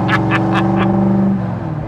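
A 1965 Ford GT40 with a Coyote engine drives by close and loud, a steady mid-pitched engine drone with a few quick rising revs.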